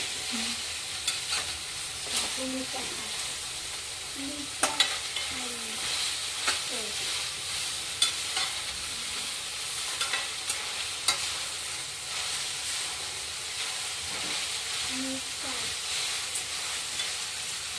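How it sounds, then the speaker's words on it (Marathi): Shredded cabbage tossed in a hot pan for veg Hakka noodles, with a continuous loud sizzle and frequent spatula scrapes and taps as it is stirred; a faint voice briefly murmurs in the background. "एक बाउल पत्ता कोबी टाकली ती पण दोन मिनटं परतवायची आहे"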